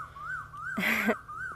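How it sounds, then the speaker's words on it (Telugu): An Asian koel calls outdoors among garden plants, its rising whistled notes repeating several times at a moderate distance, with a brief burst of broadband noise partway through. "కోయిలు అరుస్తుంది"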